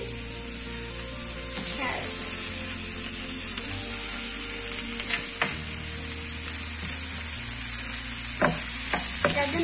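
Vegetables, including carrots, fry in a pan with a constant sizzle while a utensil stirs and scrapes them in several distinct strokes, close and loud.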